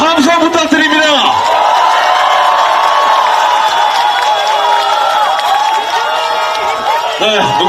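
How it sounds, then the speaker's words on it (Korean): A large outdoor campaign rally crowd in Seomyeon, Busan, roars with shouts, whoops and cheers under scattered clapping, very loud and close, with amplified voices mixed into the din. "박수와 함성 부탁드립니다."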